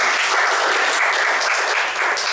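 Steady applause from a crowd, dense and continuous clapping at fairly loud level throughout, with no talking over it.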